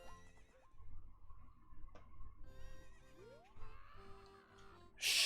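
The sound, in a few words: horse neighing in The Legend of Zelda: Ocarina of Time video game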